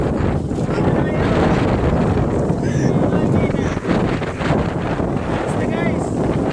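Strong wind buffets the microphone at sea, with waves and boat noise in a loud, continuous roar throughout, and a voice speaking over it.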